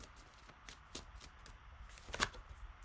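A deck of tarot cards is shuffled close by in quiet bursts of soft riffling taps and slides, faint and uneven, with one sharper flutter near the end.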